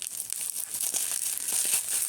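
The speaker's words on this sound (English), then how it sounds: "Bloody bubble wrap." Continuous crinkling and crackling of bubble wrap being handled, close and fairly loud, with dense irregular crackles and no talking.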